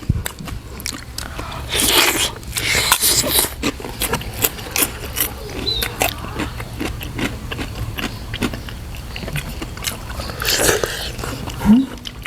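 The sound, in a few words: eating crunchy fresh shrimp with papaya salad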